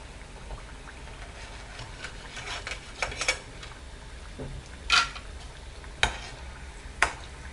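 Peanuts frying in hot oil until golden, a steady low sizzle with scattered crackles and a few sharp clicks or taps, close and fairly quiet with no voices.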